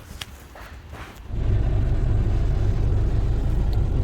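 A steady, loud low rumble of a company car's engine fills the cabin, starting abruptly after a quieter opening and holding constant to the end.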